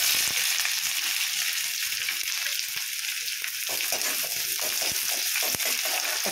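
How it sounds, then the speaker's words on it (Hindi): Chopped onions with cumin frying in a spoonful of oil in a hot kadhai, giving a steady bright hiss of sizzling with occasional soft stirring clicks, close and alone with no voices. "प्याज को 2 से 3 मिनट भून लेते हैं ब्राउन होने तक।"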